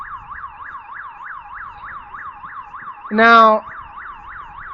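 An emergency vehicle siren on a city street near a consulate at night gives a loud, rapid, repeating warble. A short burst of a man's speech breaks over it briefly.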